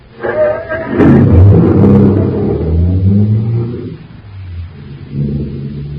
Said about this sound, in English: Start the car, Blake.